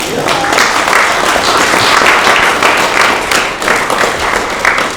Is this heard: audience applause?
yes